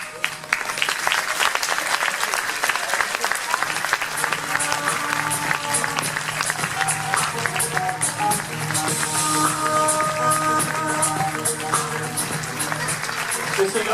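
Sustained audience applause at a dojo's 2018 gala, steady dense clapping throughout with music and voices faintly underneath.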